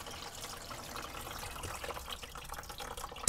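Water runs from a tap in a caravan kitchen while spinach is washed, a soft, continuous splashing trickle with small irregular drips, fairly faint and heard alone.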